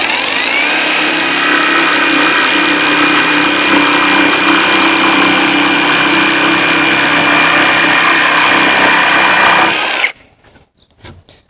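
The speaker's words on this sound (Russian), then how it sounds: "Сделаем один быстрый рез, а потом на следующем резе я буду менять обороты клавишей." A Heimerdinger LB291 cordless jigsaw cuts through 12 mm chipboard, its loud, steady buzzing rasp running for about ten seconds before it abruptly stops, followed by a few faint clicks and handling sounds.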